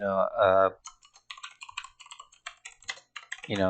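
Rapid clicking of keys on a computer keyboard as an Instagram caption is typed on a PC, an irregular burst of close keystrokes framed by brief talking at the start and end.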